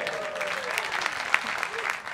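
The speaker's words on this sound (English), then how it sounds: "I can hear the applause" Audience applause at a live storytelling show, a steady wash of clapping from the crowd, moderately close and continuous for about two seconds.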